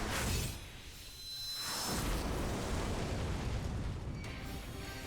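A loud booming explosion in a video game, rising from a rushing whoosh into a sustained roaring blast that then trails off into rumbling noise.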